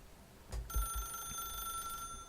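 A telephone rings in the video game Stanley Parable, an electronic bell tone that starts partway in and holds steadily over a quiet background with a few soft thumps.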